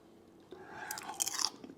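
Someone chews a mouthful of stovetop popcorn made with real butter, and a short burst of close, quiet crunching rises out of near silence.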